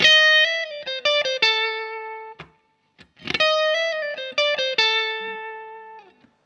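A distorted electric guitar plays a short bluesy phrase of bent and sustained notes, pausing briefly midway before a second run that fades out.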